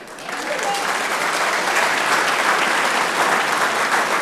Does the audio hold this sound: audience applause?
yes